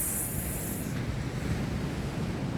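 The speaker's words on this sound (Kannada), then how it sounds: "ನೋಡಿ ಹೇಗಿದೆ ಅಲೆ ಬೀಚ್." Sea waves wash steadily onto a beach, a continuous broad surf roar at moderate distance with faint wind, no talk.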